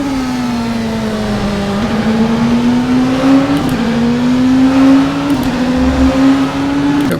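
An Oreca 07 LMP2 race car engine at Daytona Road Course in rFactor 2 holds a steady, loud high-pitched drone, with small pitch dips at gear changes before it climbs again.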